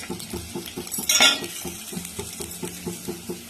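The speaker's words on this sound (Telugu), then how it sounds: "ఇవి కొంచెం బాగా ఫ్రై చేసుకున్నాం ఫ్రెండ్స్." Cashews frying in oil in a pan, with rhythmic clinks and scrapes of a spoon stirring against metal over a faint sizzle, plus one brief louder hiss burst.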